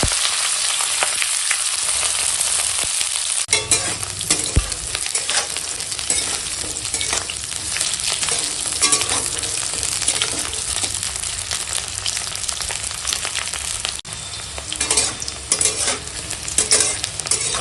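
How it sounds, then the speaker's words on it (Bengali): Cauliflower frying in hot mustard oil in a wok gives a loud, steady sizzle with scraping and stirring throughout, and no voices. "আর এখানে কড়াই দিয়ে দিয়েছি সরিষার তেল, তেল গরম হয়ে গেছে। এখন ফুলকপিটা দিয়ে দেবো।"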